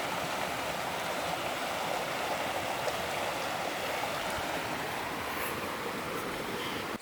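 A river in the Adirondacks near Keene Valley flows past in a steady, broad rushing wash that stays loud and even throughout, with no voices.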